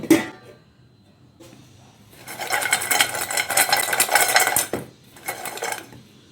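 Homemade kurkure snack batter being mixed with spices by hand in a bowl, a brief rustle at the start, then a sustained wet, gritty stirring and squelching for a couple of seconds, a pause, and a shorter burst of mixing, close and fairly loud.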